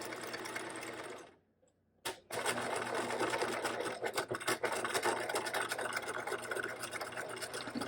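Sewing machine top stitching fabric straps for a caddy bag, a steady close mechanical whir that pauses briefly for about a second, then resumes with a sharp start and runs on continuously, no talking.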